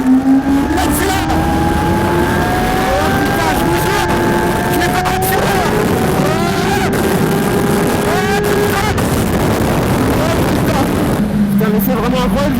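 A motorcycle accelerates hard on a racetrack, its engine note climbing steadily in rising harmonics, loud and close as from onboard, with wind rush throughout and a voice speaking over it.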